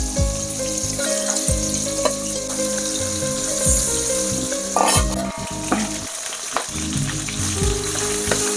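Pieces of fish rubbed with salt and turmeric sizzle and crackle in hot oil in a pan, a continuous frying hiss with occasional scrapes and clinks of stirring.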